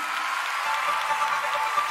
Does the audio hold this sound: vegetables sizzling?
no